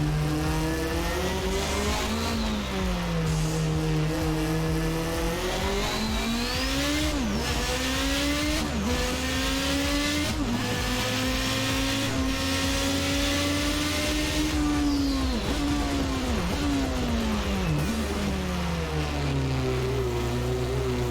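Toleman T184 turbocharged Formula 1 car engine in the Assetto Corsa racing game, loud and continuous, its pitch rising and falling with repeated revving through gear changes and throttle lifts, alone without talk.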